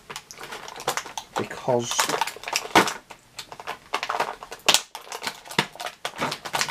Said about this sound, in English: these are a lot harder to cut, these tags